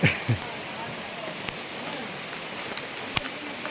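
Steady rain patters all around while walking to the Vellarada Kurishumala pilgrimage, a soft continuous wash with a few sharper drops and knocks standing out, recorded close.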